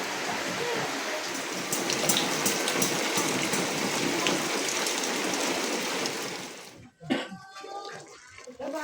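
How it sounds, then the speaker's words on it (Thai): Evening rain pours steadily outside a rented room, a dense continuous hiss of drops on surfaces that cuts off abruptly near the end, followed by a few close clatters and faint voices. "สิค่ำๆแล้วก็ฝนตก"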